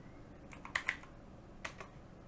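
A few light keystrokes on a computer keyboard click in a short, irregular cluster and then a single tap, faint and close in a quiet room.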